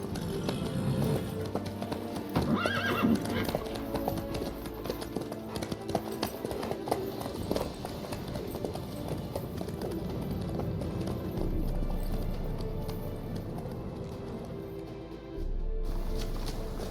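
Horse hooves clip-clop steadily from a trotting mount in The Witcher 3, with a brief neigh near the start, all under a dense bed of game music and ambience.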